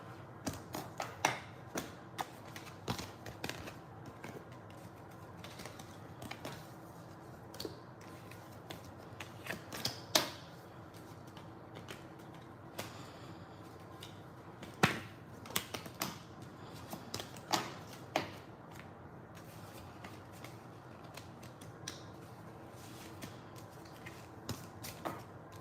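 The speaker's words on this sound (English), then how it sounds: "Let me put these cards up." Reading cards being handled and laid out, producing scattered soft taps, shuffles and light slaps spread irregularly across a quiet room, with no talking.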